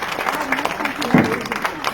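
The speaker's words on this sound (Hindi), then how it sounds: "ताली बजाओ श्रीबाई के लिए।" A crowd claps for Shribai at an outdoor gathering by a dam, brief scattered applause mixed with voices and background chatter.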